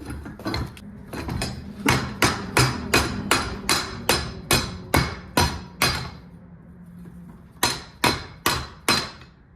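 Metallic hammer blows strike repeatedly at a stuck bolt in 351 modified engine parts during a teardown, about a dozen evenly spaced ringing hits, a short pause, then a few more close and loud.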